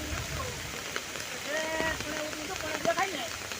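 Rain pours steadily during a flood on the Malan river, a constant wash of falling water with voices talking over it and a few tonal calls rising through the middle.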